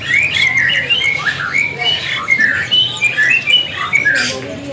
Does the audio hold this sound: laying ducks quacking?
no